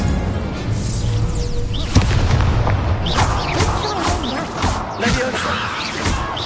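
An Incendio fire spell is cast in the Hogwarts Legacy video game, loud bursts and whooshing booms amid busy combat effects, with voices calling out over the action.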